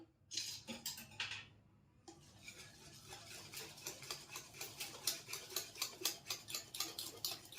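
Batter of chana dal with coconut powder and a little sugar being whisked for Bengali dhoka, giving close, steady, rhythmic scraping strokes that quicken and continue throughout.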